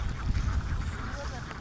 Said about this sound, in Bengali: এখানে হাঁস বিক্রি করে।